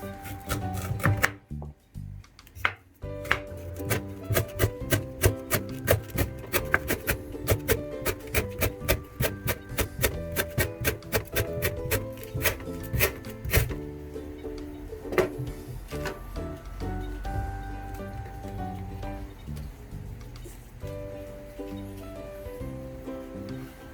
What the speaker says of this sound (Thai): ซอยหั่นด้วยนะครับ